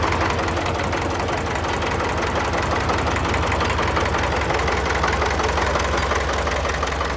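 A heavy MTZ tractor engine idles steadily nearby with a rough, knocking rumble that never changes pace, and nobody speaks.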